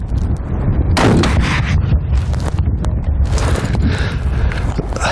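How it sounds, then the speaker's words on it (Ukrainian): A heavy weapon fires with a loud blast, followed by a long rumbling echo and rolling reverberation outdoors, no voices. "Постріл!"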